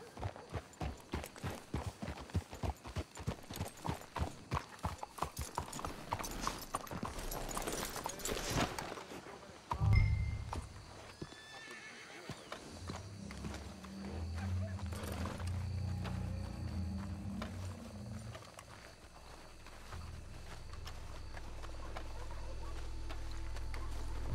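Rhythmic horse hooves clip-clopping at a steady trot in the video game Red Dead Redemption 2, fading out partway, followed by low rumbling ambience.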